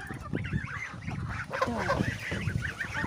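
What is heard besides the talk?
geese honking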